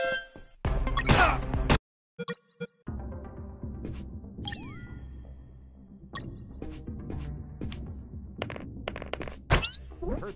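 Bright metallic coin-drop chimes ring out several times amid bursts of game sound effects and music, loud and close.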